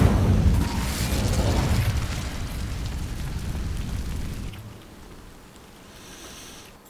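A fiery burst from the Incendio spell setting dry vines alight in Hogwarts Legacy, a loud rumbling whoosh that sustains for several seconds, then drops abruptly to a quieter crackling tail.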